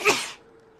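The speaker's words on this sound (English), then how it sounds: "I failed to mute that sneeze." A single sharp sneeze bursts out close by, loud for a moment, then fades into quiet room noise.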